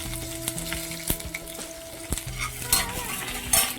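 Ginger, garlic and onion fry with peanuts in a pan, a steady sizzle broken by several sharp clinks and scrapes of a spoon stirring against the metal, close and fairly loud with no talking.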